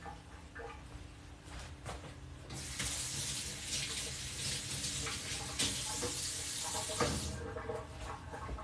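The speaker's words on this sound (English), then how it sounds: "Let me wash my chopstick first" Tap water runs steadily into a sink as chopsticks are rinsed beneath it, a close, continuous splashing hiss that swells in the middle and tapers off, with no voices.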